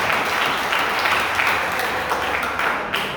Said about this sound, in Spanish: Demos un aplauso, Mana Vilma.